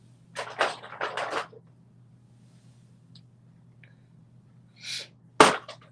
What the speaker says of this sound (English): Oh, and I got to sneeze.